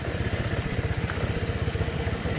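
A motorcycle engine runs steadily and close by while riding over a rough road, with a dense, low rhythmic rumble and rattling clatter throughout and no talking.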